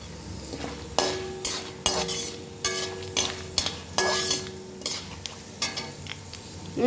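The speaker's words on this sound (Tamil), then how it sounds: "கடைசியாக நம்ம எடுத்து வச்சுருக்க வெள்ளை எள்ளையும் ஆட் பண்ணிக்கலாம். வெள்ளை எள்ளு பொரியணும்." White sesame seeds fry and are stirred in a pan over a low flame, soft sizzling broken by a steady series of sharp scraping and clinking spoon strokes against the metal, close up with no speech.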